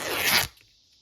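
Scissors cut a sheet of paper for an envelope journal craft project, making one short crisp snipping rasp close to the microphone that cuts off abruptly into near silence.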